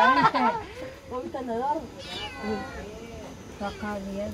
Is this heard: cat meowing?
yes